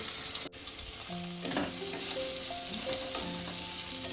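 Boiled taro (mankochu) frying in a pan, a steady close sizzle with occasional stirring scrapes, low and continuous without talk.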